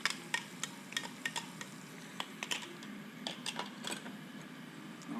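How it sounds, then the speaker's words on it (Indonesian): Blended spice paste sautés in a pan over low heat, giving a soft, steady sizzle under repeated sharp clicks and scrapes of a utensil stirring against the pan, fairly quiet and close, with no talking. "Nah, sambil kita tumis"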